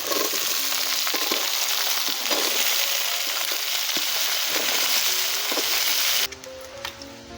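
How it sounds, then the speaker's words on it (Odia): Vegetables fry in a pan after onions for an Odia rohu fish-head and prawn dish, a dense steady sizzle with occasional stirring clatter, then cutting off abruptly near the end. "ପରିବାଟା ଭାଜିଦେବା।"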